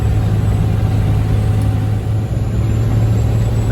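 A Cummins diesel in a Ford F350 cruising at steady throttle while towing cattle and hay, a constant low rumbling drone with road noise, no voices.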